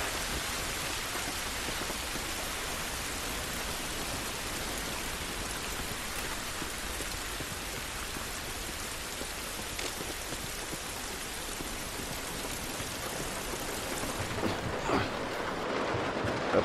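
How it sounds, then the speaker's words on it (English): Steady rain falling outdoors in The Last of Us Part II, a dense continuous hiss of drops on surfaces that holds evenly throughout with no voices over it. "It's raining, but I think it's gonna be good."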